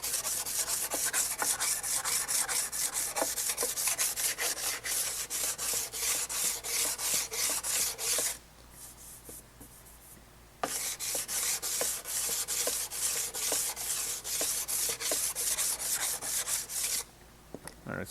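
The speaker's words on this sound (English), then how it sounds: "Let's sand this." Sandpaper rubs back and forth over a butt weld on a Scout 800 fender, a fast rhythmic rasping of metal that pauses for a few seconds midway and briefly near the end, close and alone without speech.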